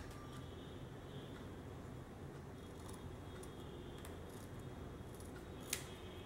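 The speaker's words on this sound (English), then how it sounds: "Just going to trim that excess off." Scissors trim excess card stock from a handmade window card, giving a few light snips and clicks over a steady background hiss.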